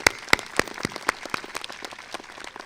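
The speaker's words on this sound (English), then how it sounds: "Please let's give them a huge round of applause for their years of dedication and service to the community." Graduation audience applause for the PVHS Class of 2018 ceremony: scattered, fairly sparse claps with a few sharp nearby hand strikes standing out over a thinner spread of distant clapping.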